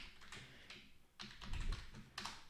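Computer keyboard typing code, a quick run of light close clicks and taps in uneven bursts with no talking.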